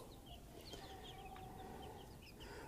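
Baby chicks squabbling inside a brooder, with many high, thin peeps and chirps scattered over a steady background hum, close by and continuous with no talking.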